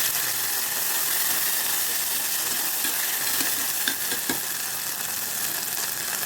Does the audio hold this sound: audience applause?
no